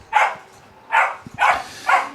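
A puppy barks four times in short, separated bursts, fairly close and clear, with no talking over it.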